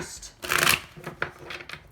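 Tarot cards riffle and slap together in a few quick bursts close up, with soft papery shuffling between them and no talking.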